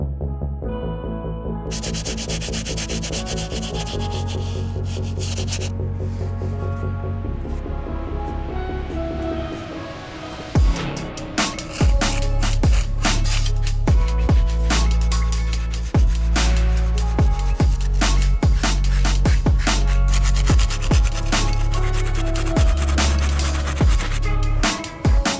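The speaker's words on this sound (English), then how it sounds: "Move on to our stiff bristle to clean this boost." A stiff bristle brush scrubs the muddy boost midsole of an Adidas Iniki sneaker. After a steady tonal opening come loud, close, rapid rubbing strokes that repeat densely for the rest of the clip, with no talking.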